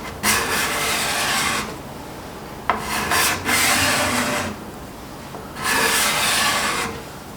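Card scraper with a fine burr drawn across wood, three distinct rasping strokes of a second or so each, close and crisp, separated by short pauses.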